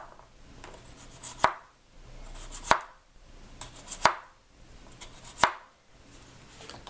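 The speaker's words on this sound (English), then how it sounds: "We're just gonna cut it into slices." A knife cuts a washed potato into slices on a cutting board, five crisp chops falling about every one and a half seconds, close and clear, each with a sharp thud and a brief scrape in between, no talking.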